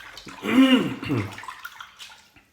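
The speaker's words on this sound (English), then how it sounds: "I'll just wash my hands off a little bit here." Hands are rinsed under running water at a sink while shaving with slick soap, a soft splashing rush for a second or so that fades into light drips and trickles, close by and without talking.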